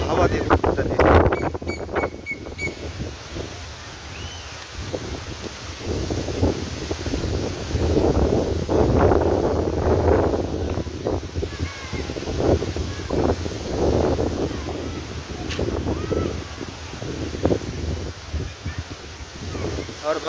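Gusty storm wind sweeps across a village, rushing and buffeting the microphone in waves of varying strength, with a voice speaking faintly at times.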